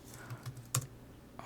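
Keys tapped on a computer keyboard while entering a short line of code, a few light, sparse clicks with one sharper cluster of strokes, close and quiet with no voices.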